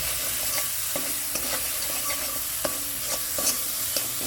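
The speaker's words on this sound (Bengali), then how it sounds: "নারকেলটা নাড়াচাড়া করে মিশিয়ে দিতে হবে।" Grated coconut is stirred in a pan for a bitter gourd and milk dish. A spatula scrapes and knocks in a steady rhythm over a continuous sizzle.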